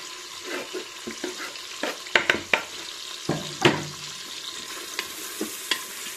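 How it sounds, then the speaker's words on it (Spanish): Onion sizzles in a frying pan, a soft steady hiss broken by sharp scrapes and clacks as a utensil stirs it, some knocks close and distinct. "Le pongo ya la cebolla."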